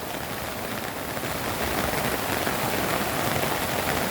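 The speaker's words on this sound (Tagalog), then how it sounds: "Napakalakas ng ulan." Torrential typhoon rain roars continuously near a cornfield, a thick, even wash of drops hammering down close by, with no talking.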